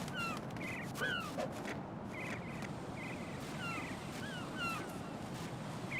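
Seagulls in Metal Gear Solid 2's Big Shell cry repeatedly in short, scattered calls at moderate distance over a steady windy, watery ambience.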